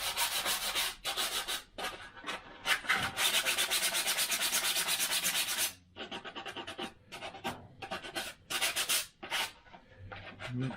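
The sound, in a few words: sanding edges with 180 grit sandpaper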